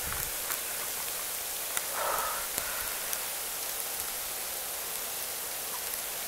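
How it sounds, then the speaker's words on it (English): Steady hiss of ice pellets with faint scattered ticks, a brief louder patch near the middle, falling continuously outdoors in extreme cold in South Mississippi. "That's not rain, that's ice."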